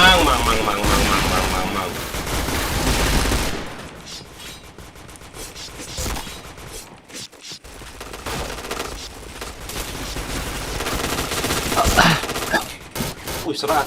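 Rapid gunfire bursts in a video game shooter, dense and loud at first then thinning into scattered shots and mechanical clatter, with voices talking over parts of it.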